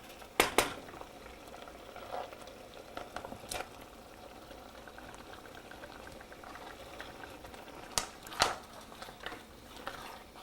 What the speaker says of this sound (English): we can let this simmer for like 2 minutes